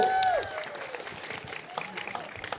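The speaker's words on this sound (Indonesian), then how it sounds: "Tepuk tangan dulu Bapak Ibu-ibu." A crowd of men and women claps at an outdoor gathering held in a rice field. The scattered, uneven applause follows a short whooping cheer and holds at moderate loudness.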